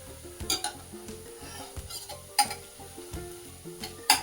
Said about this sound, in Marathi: याच्यामध्ये आपण टाकूया लसण आल्याची पेस्ट